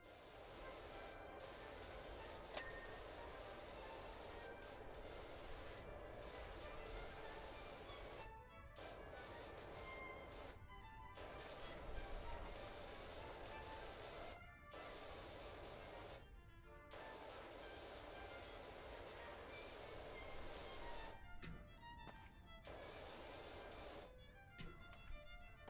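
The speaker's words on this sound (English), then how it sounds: "I'm just hosing it all down." A hose sprays water over equipment in a video game, a steady close hiss that runs for long stretches and cuts off briefly several times before resuming.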